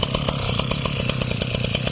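A small used Japanese petrol tiller runs close by at high revs, tilling soil around the base of a tree, buzzing continuously with a rapid pulsing rhythm.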